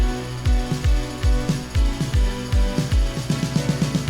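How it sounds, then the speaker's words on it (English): A Minimoog synthesizer pulses with deep bass notes that swoop downward in a steady, punchy rhythm, loud and dense with no voices. "we have a mini moog coming in"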